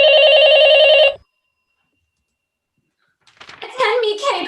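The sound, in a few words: telephone ringing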